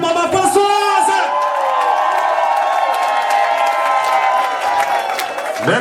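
Audience at a party applauding and cheering for a woman as she is introduced, loud sustained clapping and whooping with a shouted voice riding over the crowd roar.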